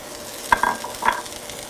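Red kale going into a hot pan with turmeric, giving a few short stirring scrapes and a soft sizzle over about a second, close and quiet.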